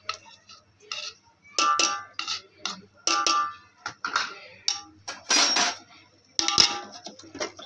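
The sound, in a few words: mixing tomato and onion paste in a cooking pot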